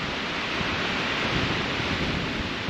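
Steady, roaring rush of strong wind through trees, a dense broadband whoosh that holds constant throughout with no voices.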